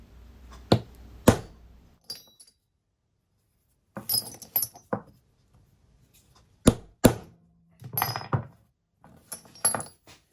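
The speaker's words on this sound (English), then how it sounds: "now I use these hole punches to punch the holes with my hammer" Sharp metallic clinks come in small groups with silent gaps as a hammer strikes a hole punch through a motorcycle engine gasket, close and crisp.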